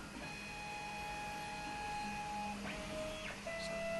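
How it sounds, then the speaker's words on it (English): A MonoPrice Cadet 3D printer running bed leveling whirs steadily with stepper-motor tones, shifting pitch as the head moves, plus brief rising whines near the end; no voices. "So it looks like the printer is going to go ahead and do a bed leveling for us."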